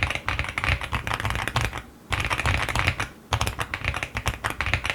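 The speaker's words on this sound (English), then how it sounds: "let's hear how creamy this keyboard actually is" Rapid, steady typing on an Aula F75 Max mechanical keyboard, close up, with crisp clacky keystrokes and two brief pauses between bursts.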